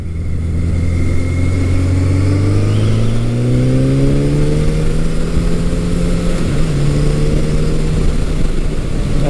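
A restored 1983 Suzuki GS1100E motorcycle accelerating on a test ride, its engine note climbing steadily through the revs, then easing and pulling again, loud and close.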